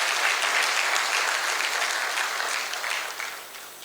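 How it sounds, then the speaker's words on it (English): Audience applause at an oil licensing round pre-bid conference, a dense steady wash of many hands clapping at close range that holds throughout and eases slightly toward the end. "A round of applause, please."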